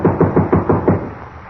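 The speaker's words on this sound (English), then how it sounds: "Give it a good bang." Someone bangs hard on a door, about six evenly spaced heavy thumps close by that stop partway through, with no talk over them.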